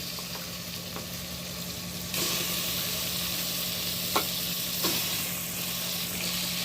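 Chicken soaked in salt water goes into a hot pan and a loud sizzle jumps up suddenly, then holds as a steady close hiss with a couple of faint clinks.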